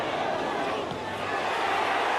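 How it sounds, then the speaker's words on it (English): Football crowd at a 1996/97 cup replay between Stockport County and West Ham United, a broad continuous roar of shouting and chatter from the stands, steady and fairly loud throughout. "the crowd telling Bennett to try a David Beckham there"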